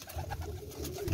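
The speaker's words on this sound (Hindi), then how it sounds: "दाने का टाइम हो रहा है तो कबूतर थोड़े से तंग कर रहे हैं" Soft, low coos from flying pigeons kept at home repeat in a steady murmur at close range around feeding time, with no voices present.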